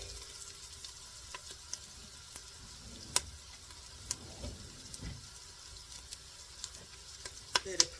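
Jerk cabbage with sausage, bacon and shrimp sizzles steadily in a pot, a continuous close hiss of frying with occasional ticks and clinks of stirring scattered through, no talk.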